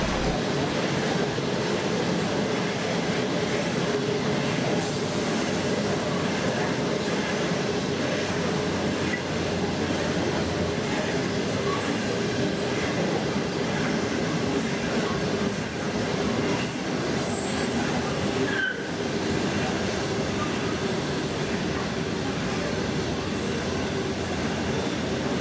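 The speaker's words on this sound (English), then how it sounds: "a Pacific National coal train heading their way up to the south coast" A long Pacific National coal train rumbles past close by in New South Wales, with continuous heavy rolling, rhythmic wheel clatter and occasional metallic squeals, and no voices.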